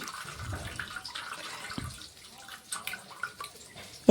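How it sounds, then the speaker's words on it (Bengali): Boiled cooking water from pressure-cooked potatoes and cabbage is poured into a bowl, a soft close trickle and splash running throughout at low level, ending with a brief clunk. "এখন আমি এই জলটা ফেলে দেব, একটা বাটিতে ঢেলে নিচ্ছি।"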